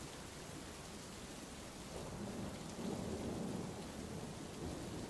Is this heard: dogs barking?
no